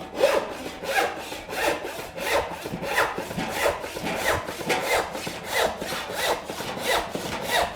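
Hand saw cutting Baltic birch plywood in steady, even strokes, each a rasping push and pull repeated about twelve times at a relaxed rhythm, close and clear with no talking.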